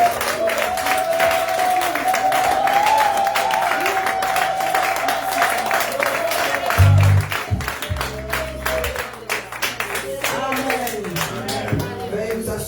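A church congregation at a Sunday service applauds steadily, with dense, sustained clapping and crowd noise filling the space, while a voice sounds over it and the applause thins toward the end.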